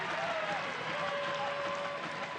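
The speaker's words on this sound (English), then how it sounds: "who's the guy that's clapping the loudest after that?" Crowd applause and cheering fill a soccer stadium during an Indy Eleven versus Tampa Bay Rowdies match, a steady dense clapping wash with a commentator's voice running over it.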